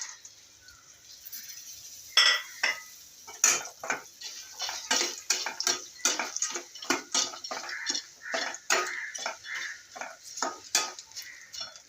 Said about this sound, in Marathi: आणि हे मिक्स करून घ्यायचे. सर्व भाजल्यानंतर याच्यामध्ये शेंगदाणे टाकायचे आहेत.